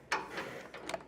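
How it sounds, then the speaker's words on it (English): A ratchet with an 18mm socket turns a flange nut on an RV steering stabilizer bracket of a 2020 Thor Four Winds motorhome, giving a brief, close pair of metallic clicking bursts. "So I'm going to pop off this flange nut and this flange nut"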